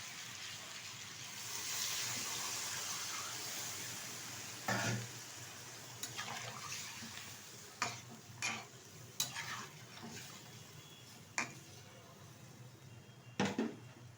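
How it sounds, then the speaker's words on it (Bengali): Water splashes into a hot pan of hilsa fish curry with gathi kochu (taro), raising a steady sizzling hiss, with a few sharp clinks of a spoon or pot against metal near the end. "এখন দিয়ে দেবো পরিমাণ মতো জল"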